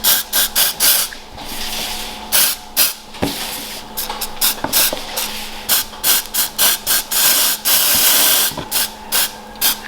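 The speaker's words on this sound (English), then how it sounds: "Give it a shake, and we'll just spray it down." Repeated short bursts of aerosol powder spray onto ball python eggs to treat mould, hissing in quick clusters with brief pauses between, close and fairly loud.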